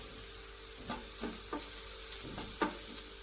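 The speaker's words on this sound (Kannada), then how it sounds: "ಇವಾಗ ಕರಿಬೇವಿನ ಸೊಪ್ಪು ಹಾಕ್ತಾಯಿದ್ದೀನಿ" Curry leaves and onions frying in a pan for kadale usli, a steady soft sizzle with several short stirring scrapes at irregular intervals, close and moderately quiet, no voices.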